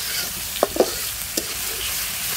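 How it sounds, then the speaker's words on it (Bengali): Pieces of home-raised local duck meat sizzle steadily in a pan while a spatula scrapes and stirs a few times, close and loud with no voices. "কষাতে কষাতে কিন্তু মাংসগুলো লাল লাল হয়ে আসছে"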